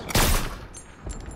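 Enemy gunfire in the Fortnite video game comes as a short, sharp burst of shots near the start, followed by fainter echoing crackle, with no talking.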